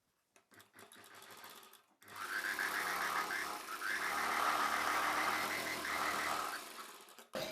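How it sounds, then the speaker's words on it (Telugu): A sewing machine stitches the lining piece of a boat neck prince cut saree blouse: a few soft clicks, then a steady, fairly close mechanical whir running several seconds before stopping, with another brief start at the end. "లైనింగ్ పీస్ని పెట్టి ఇప్పుడు ఫస్ట్ చివరన ఒక కుట్టు వేసేసుకోవాలి."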